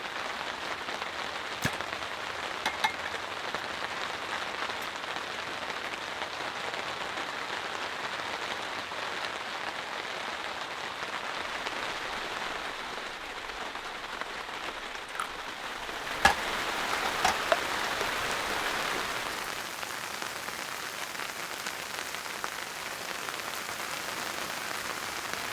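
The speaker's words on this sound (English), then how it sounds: "This is a cold rain." Cold rain falls steadily on a large motorcycle tent, making a continuous dense patter with occasional louder drips and taps, no voices over it.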